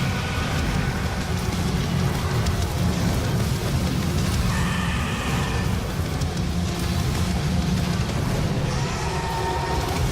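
Steady heavy rainfall hisses across a Snapmap level in a video game, with low thunder rumbling underneath and a brighter swell partway through, loud and continuous with no talking.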